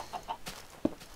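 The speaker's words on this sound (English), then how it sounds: "Stupid chickens all over the place." Minecraft chickens clucking in short, soft, close bursts, a few quick clucks spaced out with a faint click between them.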